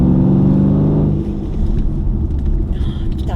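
A 640 hp Range Rover Sport pulls hard out of a corner, its engine giving a loud, steady harmonic roar for about a second before it settles into a deep, rumbling drone.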